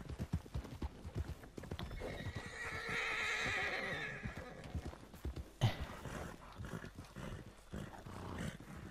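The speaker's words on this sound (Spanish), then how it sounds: "¡No huyas, caballo!" Horse in Red Dead Redemption 2 whinnying loudly, then hooves clip-clopping in a fast, steady rhythm close by, with a sharp thud partway through and game ambience underneath.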